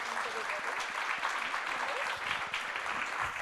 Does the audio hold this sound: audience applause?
yes